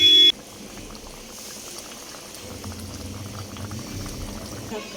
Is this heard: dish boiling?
yes